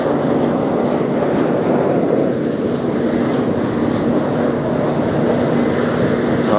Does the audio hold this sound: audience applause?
no